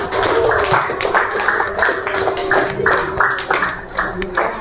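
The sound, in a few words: classroom applause for a student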